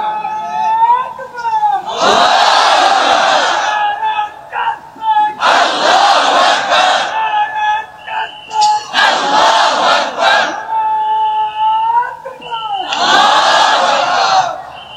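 A large crowd roars the takbir in unison, several long loud chanted shouts separated by brief pauses, echoing as at a big outdoor religious gathering.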